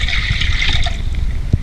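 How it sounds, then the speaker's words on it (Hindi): Two cups of water pour into a pot for tea, making a short, steady trickle with a small splash near the end. "2 कप पानी डालूंगी।"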